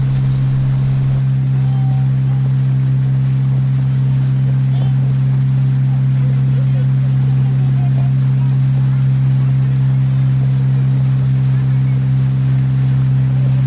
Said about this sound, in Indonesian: Jalanan dengan kapal menuju ke seberang ini kira-kira memakan waktu 15-20 menit.